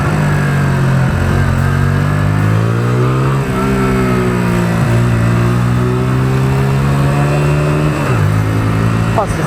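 A motorcycle engine drones steadily while riding past cars in traffic, its pitch rising and falling through gear changes and throttle shifts, loud and close throughout with wind noise and no pause.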